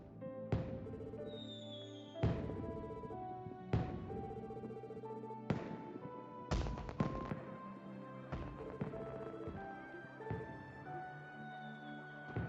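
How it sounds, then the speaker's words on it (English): Fireworks in the video game Trails to Azure, a series of sharp bursts about every one to two seconds over steady in-game music, each crack ringing out briefly. "Fast forwarding through the fireworks is illegal."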